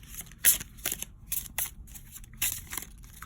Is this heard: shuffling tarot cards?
yes